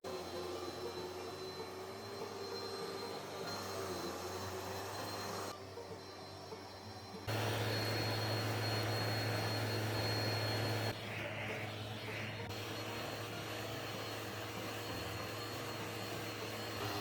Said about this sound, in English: I am gonna get to vacuuming.